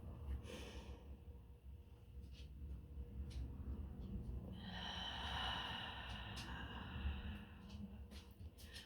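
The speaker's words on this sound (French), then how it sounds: "on prend 3 bonnes respirations" A person takes slow, deep breaths during a guided meditation. The soft, airy inhales and exhales are close and faint, with one long breath standing out over quiet background noise.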